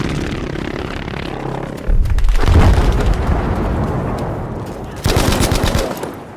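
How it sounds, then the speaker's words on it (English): A V1 rocket blast in Battlefield V, loud heavy booming gunfire-like bursts with sustained roaring rumble, two sharp onsets and a dense wall of noise throughout. "the devastating blast of a V1 rocket."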